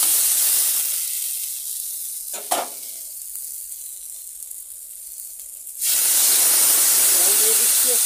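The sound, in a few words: water poured into hot pan, hissing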